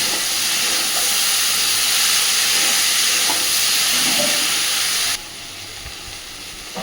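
Vegetables frying in a pan over a medium gas flame for a fish-roe curry, giving a loud steady hiss that cuts to a quieter, thinner sizzle near the end, with no talking.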